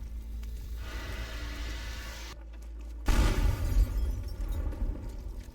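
In-game explosion in Teardown demolishing a burning structure: a sustained loud rumbling roar, a short dropout, then a heavier booming burst that rolls on, no talk.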